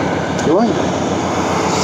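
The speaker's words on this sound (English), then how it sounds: "Tick over. That's idling nice. 700 RPM, 800 RPM maybe." A 1973 Triumph Spitfire engine idles at a steady, smooth tick-over of roughly 700 to 800 RPM, a continuous close rumble that runs under a man's brief spoken word.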